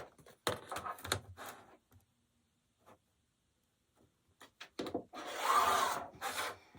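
A rotary or fabric cutter slicing a straight edge through quilting fabric on a cutting mat, heard as short, close scraping rubs, then a quiet gap and a longer steady rasping cut.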